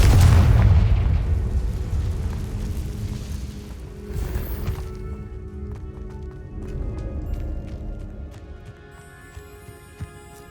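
A Confringo fire spell from Hogwarts Legacy goes off with a loud low boom at the start, then fades into a rumbling decay inside a stone cavern, with scattered crackles and small debris hits trailing off.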